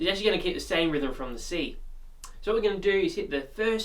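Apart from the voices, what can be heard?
No everyday noise stands out behind the speech.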